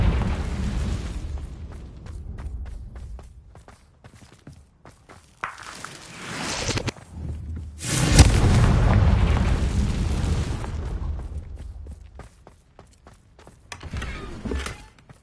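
Confringo blasting spells go off in a Harry Potter video game, with several heavy booming explosions separated by footsteps and quieter stretches, the largest blast rumbling on for a few seconds before fading.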